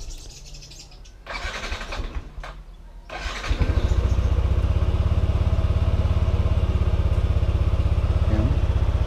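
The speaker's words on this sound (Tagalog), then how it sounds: "Okay yung andar ng motor natin ngayon ah." A Yamaha NMAX V1 scooter, just fitted with a new fuel filter, starts up after a few seconds of birdsong and settles into a loud, steady close-up idle that runs to the end.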